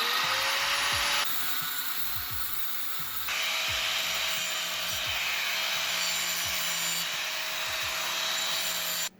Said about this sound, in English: As you just saw, he rounded off the corners where they're sharp.